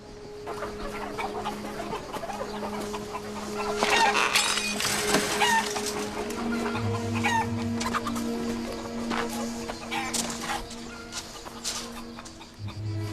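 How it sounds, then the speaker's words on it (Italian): Chickens clucking and squawking in a farmyard at feeding time, steady close clucks with occasional louder calls over background hum, no talk. "Vado a dare da mangiare alle galline."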